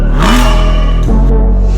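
Aston Martin V12 Vantage V12 engine with the secondary catalytic converters deleted, revving hard: a loud, close rising roar that climbs, briefly drops, then swells again and holds a deep, raspy drone.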